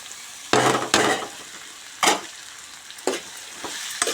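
Thinly sliced potatoes sizzle and crackle in a frying pan for potato fry. Several loud bursts of spattering come as pieces are added or turned, with quieter frying in between.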